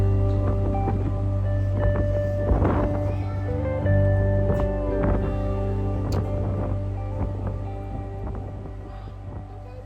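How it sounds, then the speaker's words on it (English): Steady wind buffeting across a ferry deck against a constant low engine drone and tonal hum, with faint splashing water beneath, sustained and loud throughout. "Showing Skylar the super windy deck, and she can see the water down below"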